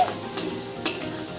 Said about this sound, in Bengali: কাঁকড়াগুলো দিয়ে আর একটু কষে নেবো।